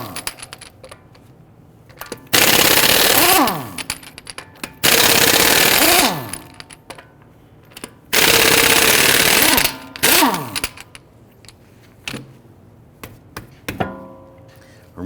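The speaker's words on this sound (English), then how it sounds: "let's loosen and remove our lug nuts." Pneumatic impact wrench with a 22mm socket rattling off the lug nuts of a Dodge Charger wheel: four loud, sustained hammering bursts separated by short pauses, with light clinks between them.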